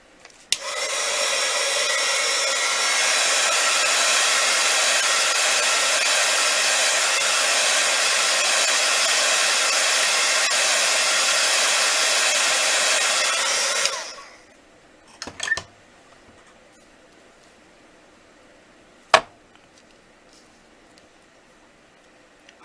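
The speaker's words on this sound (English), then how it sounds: "I'm going to use my heat gun for just a second." A heat gun blows steadily over polymer clay for about fourteen seconds, a loud, continuous airy roar that cuts off abruptly, followed by near silence and a couple of small clicks.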